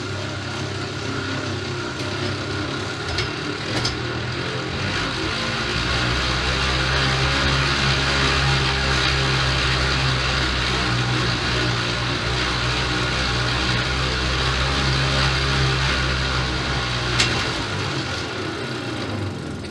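A cheap indoor exercise bike bought second-hand runs through a workout, giving a steady, loud mechanical drone with a low hum and whirring that holds throughout, punctuated by a couple of brief clicks.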